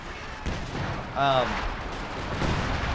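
Artillery fire in the video game Company of Heroes 2, dull booms and battle noise under a continuous din, with a commentator's voice briefly heard.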